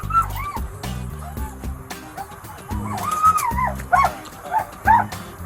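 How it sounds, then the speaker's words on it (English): A police K-9 dog barks and yelps in agitated bursts, close and loud, mixed with whimpering whines and high squeals, the outbursts growing more intense toward the end. "You're gonna get bit by the dog."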